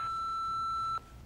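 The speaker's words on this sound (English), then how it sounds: "Do your thing when you hear the beep." A single long electronic answering machine beep, a pure steady tone lasting about a second before cutting off into faint line hiss.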